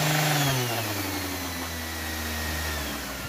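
A Parkside 20V cordless random orbital sander, model PAEXS20-LI-B2, spins down from full speed to its low setting, its whirring motor whine dropping in pitch and then holding a steady drone close by.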